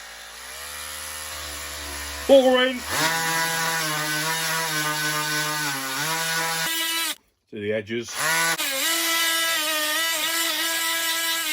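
A Lidl 6-in-1 garden multi-tool's engine screams at high revs, a steady buzzing whine that surges and dips, cuts out briefly, then picks back up, with people talking over it.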